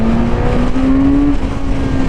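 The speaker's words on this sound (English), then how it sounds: "This bike pulls very hard." A Kawasaki Z900 RS middleweight naked motorcycle accelerates hard, its engine note rising steadily in a loud, continuous drone with strong wind rush.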